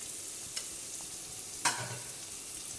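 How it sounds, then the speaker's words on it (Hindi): Chopped large onion frying in a pan for a boneless chicken gravy: a steady, soft close sizzle with a couple of brief utensil clinks and no speech. "बस इसको थोड़ा सा हमने भूनना है। अब इसमें डाल दूंगी मैं ये एक प्याज ली है बड़ी"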